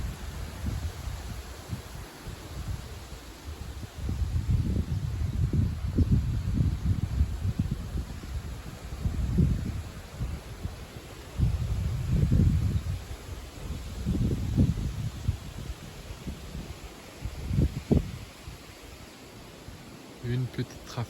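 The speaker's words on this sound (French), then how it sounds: "Une petite rafale." Gusts of wind buffet the microphone in uneven surges, rising and falling in loud rumbling bursts over a steady outdoor hiss.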